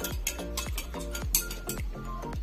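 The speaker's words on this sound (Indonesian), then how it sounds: "tambahkan air hingga mencapai 1000 ml. kita aduk." Water solution being stirred in a lab container during a science practical, with repeated clinking strikes of a stirrer against the vessel in a steady, quick rhythm, close and moderately loud.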